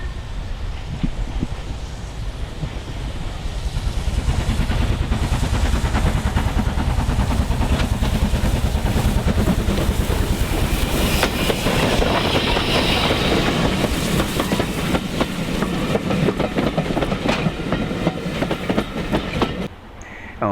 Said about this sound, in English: our next northbound is another Stanier, this time the 8F